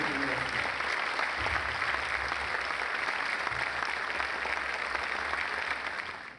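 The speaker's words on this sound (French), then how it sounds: "Et ceci sous les applaudissements de l'assistance." Sustained, dense applause from a ceremony audience in Brazzaville, honoring a decorated professor, steady and full throughout before tapering at the very end.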